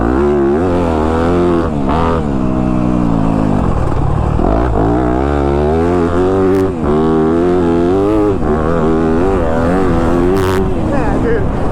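A Yamaha YZ250 dirt bike rides a motocross track. Its loud, close engine rises and falls continuously as the rider revs and shifts through the run.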